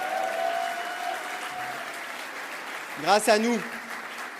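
Audience at a political rally applauding, steady crowd clapping throughout while someone speaks over it with an amplified voice.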